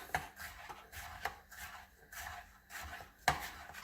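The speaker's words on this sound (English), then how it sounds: "So the best way to do that for me to cut them like into long slices." Knife cutting cucumber into long slices on a board, a few sharp separate chops spaced irregularly with quiet rubbing scrapes between, close and fairly soft.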